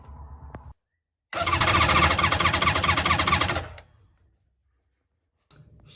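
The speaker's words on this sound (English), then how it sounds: "before I actually crank the engine and let it run on its own power" A rebuilt three-cylinder Polaris Genesis direct-injection engine cranks briefly, then catches and roars loudly for a couple of seconds before cutting off, with quieter mechanical noise before and after.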